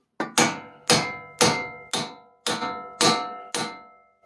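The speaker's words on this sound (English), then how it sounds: "give it a little tap with my hammer" Eight sharp metallic hammer strikes on a bolt ring out at an even pace, each with a short ringing decay, close and clear with no talking, during front lower control arm removal on a Mercedes W211 E500 4Matic.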